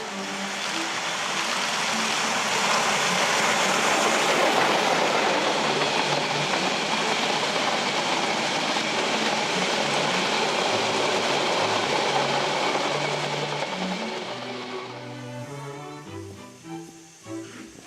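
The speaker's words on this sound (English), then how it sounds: "In northern Germany, on the coast of the Baltic Sea, runs an amazing narrow-gauge steam railway." A narrow-gauge steam railway train runs along Germany's Baltic Sea coast, making a loud, sustained rumbling roar that thins out and fades toward the end.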